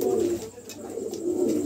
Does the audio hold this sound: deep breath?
no